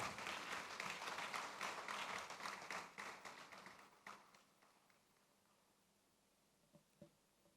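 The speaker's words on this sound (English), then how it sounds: "A round of applause." Applause from an audience at a youth development event in Ghana, steady broad clapping that fades out over several seconds, leaving faint room tone with a couple of soft taps near the end.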